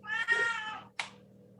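A deaf cat in a home kitchen gives a drawn-out, tonal meow followed by a short second call, close and clear against a quiet background with a faint low hum.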